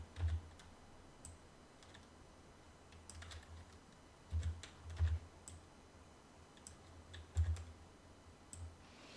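Computer keys are pressed during 3D modeling of an arched window: quiet, sparse clicks and taps, some grouped into short bursts, with a few slightly heavier thumps against a faint room hush.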